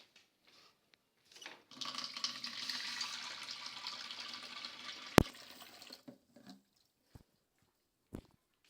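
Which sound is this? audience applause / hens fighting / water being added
water being added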